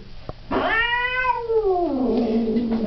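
An angry cat lets out a single drawn-out caterwaul up close, rising into a harsh yowl and then sliding down into a low, growling moan, preceded by a brief soft noise.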